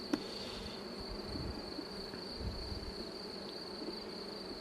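Honey bees buzz steadily around a newly housed hive, a continuous close insect drone with a faint sharp tick near the start and no voices.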